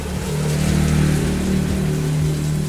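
Steady, dense hiss of rain falling, with a low mechanical hum running underneath throughout.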